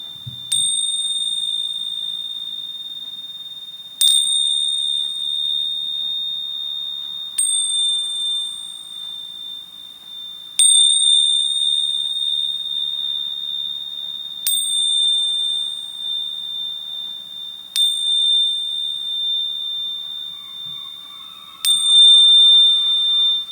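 A bright bell strikes about every three and a half seconds, seven clear rings in all, each ringing out and fading before the next.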